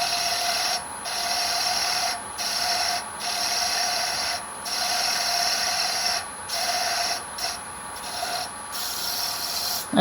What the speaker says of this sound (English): A little more sanding because we still got some punkiness into it